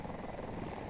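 A transport helicopter in the video game Battlefield 2042 drones with a steady, dense rotor and engine roar, heard close and alone for a brief moment.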